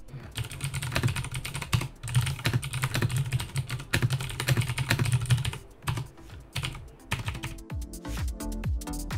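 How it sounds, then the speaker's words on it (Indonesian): Typing on a mechanical keyboard with Cherry MX Blue switches produces sharp, clicky keystrokes in quick uneven bursts with short gaps, heard close and alone. "Sedangkan kalau MX Blue suaranya seperti ini."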